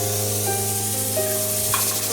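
Star anise petals and mace fry lightly in a pan, giving a steady close sizzle with soft hissing and faint stirring scrapes, set against a constant low hum from the kitchen.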